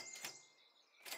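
Koala sound effect from the video game Super Auto Pets: two faint, short chirpy bursts separated by a brief pause.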